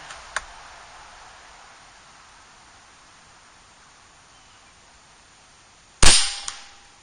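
A single sharp shot from an Air Venturi Avenger .25 PCP air rifle cracks loud near the end, with a short tail and a faint click earlier, otherwise quiet hiss.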